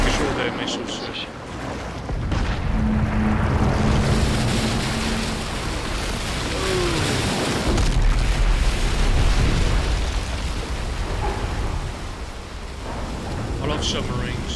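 A submarine surfaces in Call of Duty MW3 with a loud, sustained roar of rushing water and rumble that builds and holds for several seconds, then eases near the end under a busy game soundscape.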